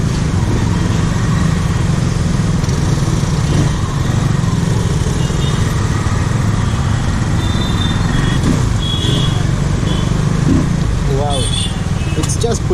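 A Benelli Leoncino 250 motorcycle engine drones steadily while riding, a constant loud rumble with wind rush and brief higher-pitched whines near the end.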